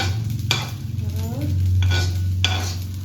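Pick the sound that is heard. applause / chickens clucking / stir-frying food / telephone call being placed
stir-frying food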